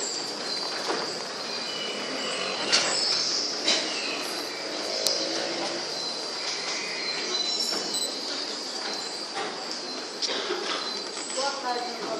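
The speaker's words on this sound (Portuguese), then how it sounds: "Lá vai o trem." A train passes by with a steady rumble of rolling wheels, high metallic squeals and clatter through the whole stretch, while birds and crickets chirp in the background.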